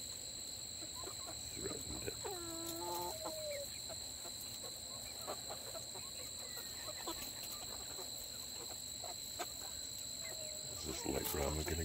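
A rooster and hens clucking in a yard amid steady background hum and insect-like tones, a few short clucks and a squawk rising early, faint and intermittent, with occasional voices nearby.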